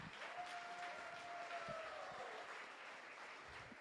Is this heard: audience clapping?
yes